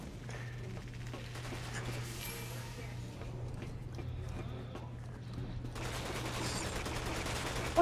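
Shots go off in Resident Evil 6 co-op play, a quick scatter of crisp reports riding under a low steady hum and game ambience.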